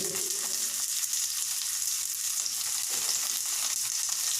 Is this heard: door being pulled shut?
no